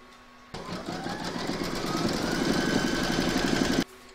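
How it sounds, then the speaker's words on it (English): A sewing machine runs steadily while stitching fabric for a scalloped placemat, a continuous close whir that starts abruptly, holds for about three seconds and cuts off. "Pop it into your machine and stitch round number 3 to secure it."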